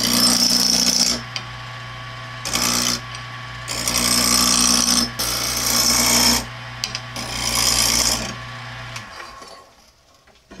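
A wood lathe spins a hammer handle at higher speed while a tool rasps against the wood in repeated scraping bursts over a steady motor hum, ending as the lathe winds down.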